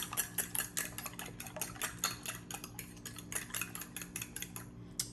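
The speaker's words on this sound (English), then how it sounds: "with a fork or a whisk, just whisk up your eggs" Eggs whisked with a fork or whisk in a bowl for pumpkin pie batter make quick, rhythmic metallic clicks and taps, close and fairly quiet, continuing steadily without any talking.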